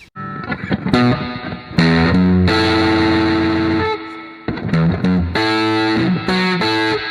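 A heavily fuzzed electric guitar riffs and bends through thick, saturated distortion from a fuzz plugin, with sustained notes ringing out between choppy bursts.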